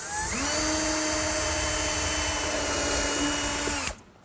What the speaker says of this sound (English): hold the drawer front and pre-drill for a screw